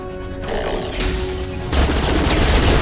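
Gunfire in Mass Effect 2 while shooting an enemy: dense, continuous rattling fire that grows louder in steps over a few seconds, with mechanical clatter running through it and no voices.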